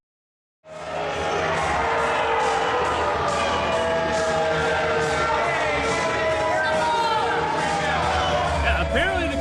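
Arena crowd at a televised wrestling show, a loud continuous roar of jeering voices with scattered whistles and shouts, starting abruptly and holding steady throughout.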